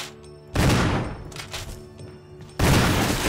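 Two loud gunshots fired at a spider in the 2002 Resident Evil remake video game, each a sharp blast with a ringing decay, about two seconds apart, with quiet game ambience between them.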